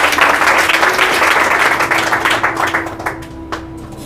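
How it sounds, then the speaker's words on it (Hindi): An audience claps steadily for students receiving medals at a ceremony, a dense burst of applause that is strong at first and then thins into scattered claps toward the end. "इसके लिए एक और ताली बनना चाहिए"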